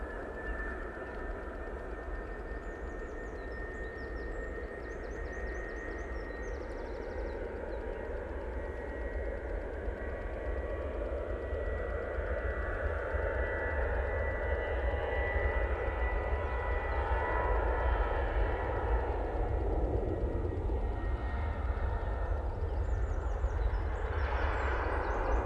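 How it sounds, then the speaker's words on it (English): Jet engines of an airliner on its takeoff roll at Manchester Airport, a sustained loud roar with a rising whine that builds steadily over about twenty-five seconds, heard from a distance without voices. "Those engines just sound really weird today."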